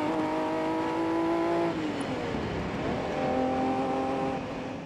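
The V12 engine of a Ferrari 365 GTB4 Daytona from 1972 holds a steady, moderately loud drone, drops in pitch as the driver shifts or lifts off, then settles into a smooth cruise with no voices over it.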